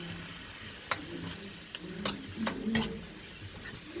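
Ground spice paste sautéing in a pan, a low steady sizzle broken by a few scraping stirs and clicks of a utensil against the metal, close and moderately quiet with no talk.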